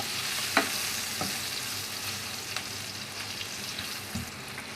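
Gram flour (besan) dry-roasts in a pan with a soft, continuous frying hiss and a few sharp scraping taps from stirring, fairly quiet and steady, with no talking.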